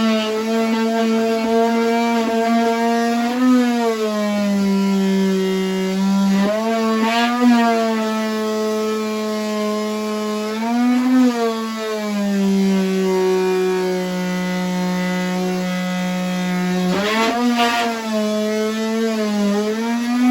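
A power tool cuts the rusted floor of an MCI 5 bus along the seams. Its loud, steady, high whine runs without a break and dips in pitch at intervals as the tool bogs under load.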